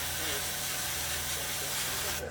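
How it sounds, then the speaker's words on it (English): Spray paint hisses continuously from a can or airbrush onto a 1/48 scale Airfix North American P-51D Mustang plastic model, a close, steady, loud hiss with no pauses. "Spray it all up."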